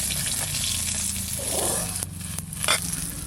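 Close, moderate sizzle of river Baush fish frying until reddish in oil, with a few brief crackles over a low background rumble.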